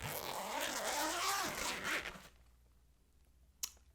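A ukulele gig bag's zipper is pulled open in one long, close, scratchy run of about two seconds, followed by quiet and a single brief click near the end.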